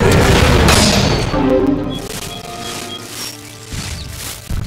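Loud, booming gunshots from the Primeval Hunt arcade shooting game, a dense burst of blasts at the start followed by heavier boomy reports, with game music and effects layered underneath.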